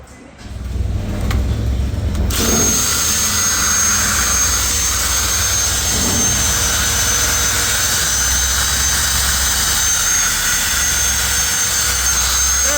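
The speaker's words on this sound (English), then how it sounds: "Get that wire wheel in there, we'll get it back to a reasonable finish." Wire wheel grinding rusty vehicle trailing arms and a leaf spring pack, a loud, steady abrasive whir that holds on continuously with little break.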